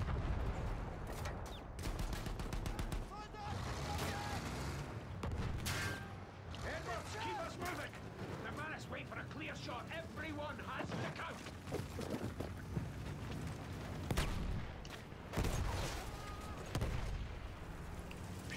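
Battlefield 1 gameplay with bursts of gunfire and heavier artillery booms, a busy and fairly faint battle mix with a voice talking over it.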